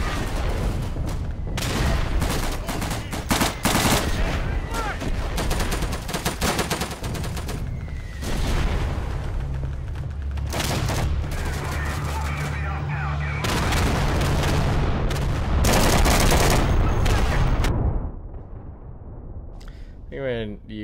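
In the World War II shooter game Day of Infamy, a gun run airstrike tears across the battlefield in long bursts of rapid gunfire and booms, dense and loud for most of the stretch before fading near the end, with voices talking over it.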